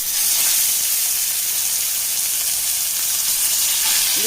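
Fish fries in coconut oil in a pan, giving off a loud, steady, close-up sizzle with bright hissing spatter that stays even throughout, with no voices.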